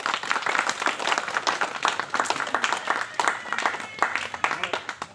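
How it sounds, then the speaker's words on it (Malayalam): Audience applause for a teacher at an Onam celebration held at a rehabilitation centre: dense, steady clapping from a crowd, fairly close, running the whole stretch with scattered voices mixed in. "നല്ലൊരു കൈയടി എല്ലാവരും"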